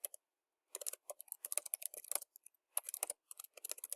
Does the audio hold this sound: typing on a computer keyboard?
yes